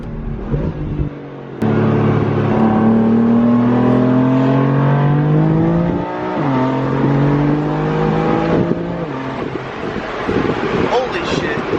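A boosted Ford Mustang accelerates hard through the gears, its engine note climbing repeatedly with shifts, loud and close with wind noise, as people talk and exclaim over the roar.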